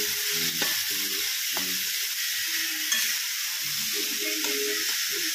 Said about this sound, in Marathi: तर छान असं तेलावर थोडंसं परतून घेणार आहोत